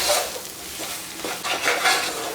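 Chicken being stirred with chilli and coriander powder in a pressure cooker, a steady close scraping and rustling with soft sizzle, carrying on without pause and with no talk.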